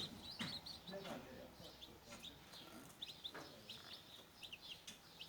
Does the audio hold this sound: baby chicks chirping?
yes